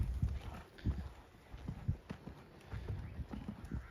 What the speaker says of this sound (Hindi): अब कैंटर हो रहा है और कैंटर बैठ कर करना चाहिए।